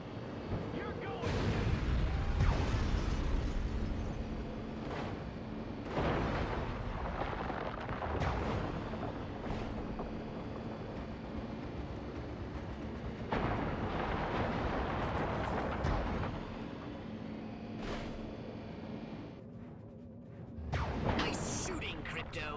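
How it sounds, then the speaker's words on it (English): Shooting and explosions in the video game Destroy All Humans: repeated loud gunshots and booming blasts over a sustained low rumble, with game voices mixed in throughout. "Nice shooting, Crypto."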